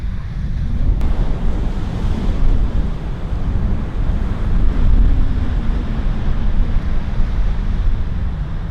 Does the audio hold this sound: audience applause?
no